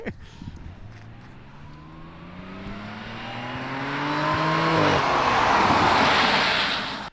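A tuned Audi S5 B8.5 with a Stage 1 ECU and TCU tune accelerates hard from inside the car, engine pitch climbing smoothly through the revs before a shift, then a loud roaring surge toward the end.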